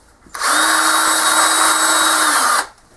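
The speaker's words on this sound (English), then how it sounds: "this is just a real soft, like wound bristle brush" Power drill spinning a soft, fine wound bristle brush while cleaning 2001 KTM 250 two-stroke dirt bike parts, a steady high whine starting abruptly, holding for about two seconds, then cutting off, loud and close with no talk.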